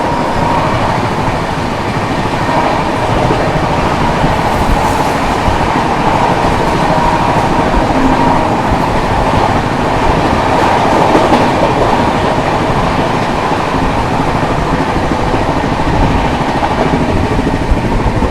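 The Bihar Sampark Kranti Express, an Indian passenger train between Hathras and Tundla, rolls with a steady, loud onboard rumble and rhythmic wheel clatter that continues throughout, with no voices.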